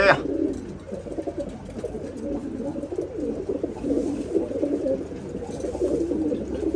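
Pigeons coo steadily in a low, throaty murmur that continues throughout, with faint background noise and no clear talking.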